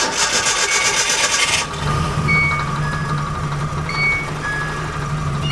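A Nissan D21 pickup truck engine starting after wiring modifications: a brief harsh cranking burst, then the motor catches and settles into a steady, loud low hum at close range.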